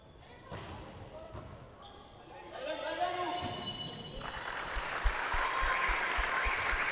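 Applause from spectators at a futsal tournament match tribute swells in the second half, with ball bounces and thuds on the court and crowd chatter beneath it.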